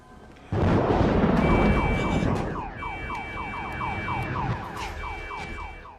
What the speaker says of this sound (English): The car alarm goes off in the storm outside.